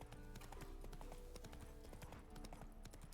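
Hooves of Roach, a horse in The Witcher 3, clip-clopping in a quick, steady rhythm of crisp close hoofbeats, alone and fairly quiet.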